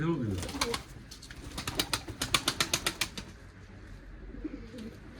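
A pigeon's wings flap in a rapid burst of sharp beats over a faint background inside a small coop, with a few soft cooing sounds nearby.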